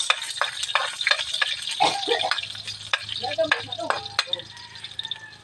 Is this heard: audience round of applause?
no